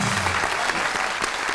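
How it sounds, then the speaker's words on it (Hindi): Brief, dense applause from a studio audience on a Pakistani TV talk show, steady and loud throughout. "अरे तालियां।"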